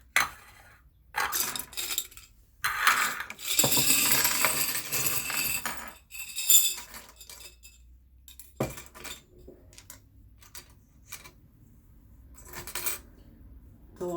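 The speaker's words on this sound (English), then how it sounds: "I have a jar of sewing feet, sewing foots, how you want to say it." Metal sewing machine presser feet rattled in a jar for a Singer Promise, close bursts of clinking and jangling metal on glass, separated by quiet pauses, with a single sharp clink partway through.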